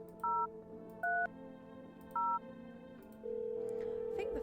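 A phone in the video game No, I'm Not a Human dials out: three short, evenly spaced two-tone keypad beeps over a quiet hum, then a steady ringing tone comes in, loud and close.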